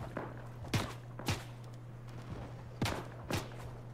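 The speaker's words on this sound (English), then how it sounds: "another guy is shooting at me as well" Fortnite gunfire comes in sharp paired shots, two bursts each with a quick double crack, over a low steady hum, moderately loud with faint thuds between.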